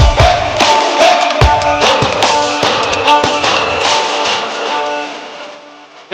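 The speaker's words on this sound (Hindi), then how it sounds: "अनुराग कश्यप साहब के लिए जोरदार तालियां" A loud crowd at a Hindi media event for the film Dacoit applauds and cheers Anurag Kashyap, a dense roar of clapping and shouts mixed with tonal sounds, gradually easing off.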